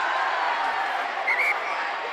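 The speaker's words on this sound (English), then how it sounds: "And the crowd were roaring, but the referee not so sure." A rugby crowd at Sandy Park in a university Super Rugby match between Exeter and Durham roars in a broad, sustained swell, steady and loud with a brief whistle-like tone rising through it.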